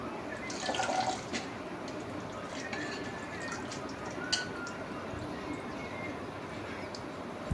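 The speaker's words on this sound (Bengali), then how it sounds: "এখন শাকটা ধুয়ে নিচ্ছি" Leafy greens get rinsed under running water from a tap, with a soft, steady flow and splashing that carries faint clinks and drips throughout.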